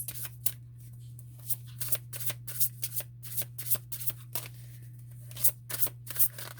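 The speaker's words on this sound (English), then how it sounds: "I am going to pull a card from the Oracle of Visions." Tarot oracle cards shuffled by hand, a close, quiet run of rapid riffling flicks and soft slaps repeating unevenly throughout, with no talking.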